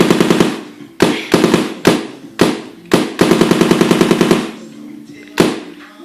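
Paintball gun firing outdoors, sharp loud pops in single shots and fast rattling strings, close by with no voices between them.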